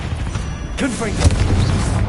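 A Confringo fire spell exploding in Hogwarts Legacy, a booming burst under low rumble, heard loud and close beneath a character's voice.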